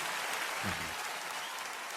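Audience applause after a singer's performance of a song on a music show, a steady wash of many hands clapping at moderate distance, sustained evenly throughout with a faint voice briefly underneath.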